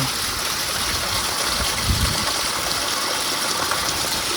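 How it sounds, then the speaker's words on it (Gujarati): Heavy rain pours down in a dense, constant hiss, with water gushing and splashing nearby. "વરસાદ જોરદાર ચાલુ"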